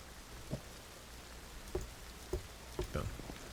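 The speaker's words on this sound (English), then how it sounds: "Oh, and it's raining." Light rain with a soft, steady hiss and a few scattered, louder drops or taps at irregular intervals.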